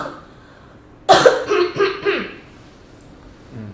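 A person coughs in a short burst of several harsh, close coughs that trail off into quieter breathing, loud against an otherwise quiet room.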